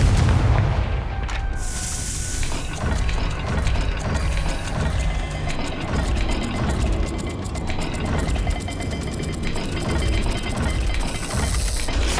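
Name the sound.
Confringo blast spell explosion in video game Hogwarts Legacy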